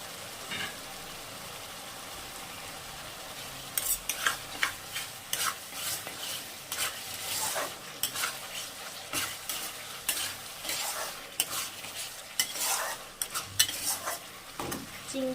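Pieces of goat fat sizzle and fry in a pan while a utensil stirs and scrapes them, producing a steady frying hiss broken by repeated close, sharp scraping strokes with no talking.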